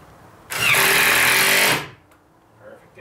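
A power screw driver whirs in one loud burst of just over a second, driving a screw into a door being built, then stops abruptly, leaving a quiet room.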